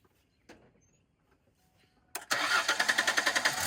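A 2004 Ford Mustang fired up after its battery terminals were changed: a few faint clicks, then a sudden crank that catches into a loud, rhythmic chugging idle with no voices.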